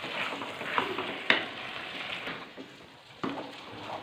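Sooji halwa being stirred in a pan while it cooks, giving a soft, continuous sizzle with a few sharper scraping clicks from the spoon, close and moderately quiet with no talking.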